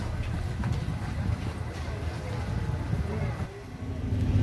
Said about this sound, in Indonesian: Naik speedboat kita, the real speedboat.